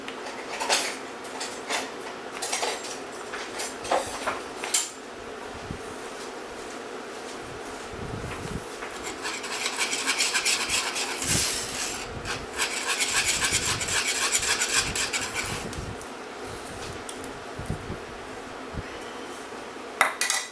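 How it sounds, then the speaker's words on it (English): Eggs are beaten in a bowl with quick bursts of whisking and scraping against the sides, broken by short pauses and clinks of the utensil. "I'm just going to give them a quick beat here"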